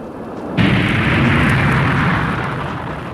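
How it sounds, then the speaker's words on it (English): Orbiter spacecraft jets fire at takeoff, a sudden loud roaring blast that swells into a sustained, dense, thundering rush and holds steady without letting up. "All jets firing."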